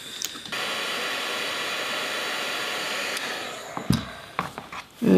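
Heat gun blowing hot air to shrink heat shrink tubing for a DIY optical tremolo guitar pedal, a loud steady whooshing roar for about three seconds, then it cuts off and a few clunks and handling noises follow.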